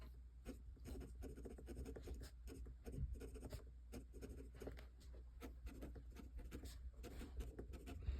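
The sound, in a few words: vintage Centropen 5270 fountain pen 14k flex nib scratching on paper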